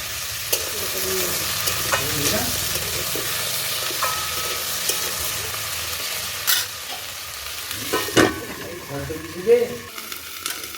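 Lentils with turmeric, ginger paste and chilli powder are stirred in a sizzling pan for a squash dal, a steady frying hiss broken by scraping strokes and a few louder clinks near the end.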